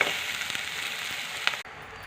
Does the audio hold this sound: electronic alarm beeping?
no